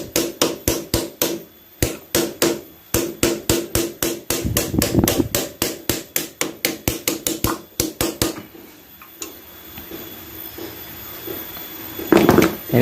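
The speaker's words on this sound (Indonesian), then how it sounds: "lalu kita pukul lagi." Repeated hammer blows knock a broken motorcycle oil filler cap loose, sharp metallic taps in a quick steady rhythm for about eight seconds, then a pause with faint shuffling before a final louder knock up close.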